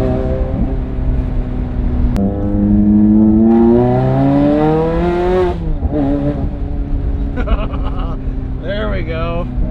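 A bargain Ferrari's engine revs loudly while driving, pitch climbing steadily through the gears with a brief drop and renewed rise, close and dominant throughout.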